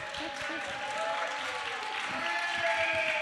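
Light audience applause at a community library reading event in Lennoxville, moderate and steady for about three seconds, with speech-like tonal bands and a voice partly present over the clapping.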